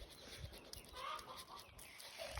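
Chickens on a local chicken farm clucking softly, scattered short calls over a low background hum and faint rustling, fairly quiet and close by.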